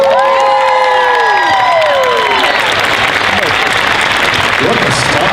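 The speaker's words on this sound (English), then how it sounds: "Round of applause." Loud applause and cheering from a large crowd at a costume contest, with whoops and shouts rising over a continuous roar of clapping, and a voice briefly heard at the start.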